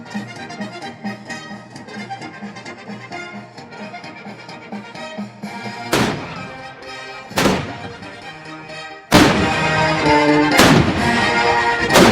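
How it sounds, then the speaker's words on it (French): Orchestral music from Tchaikovsky's piece commemorating the Russian army against Napoleon plays steadily, then loud booming cannon shots punch through it, a few spaced blasts before the full orchestra swells in. "C'est une pièce pour orchestre qui commémore la force de l'armée russe contre Napoléon, alors elle inclut des coups de canon."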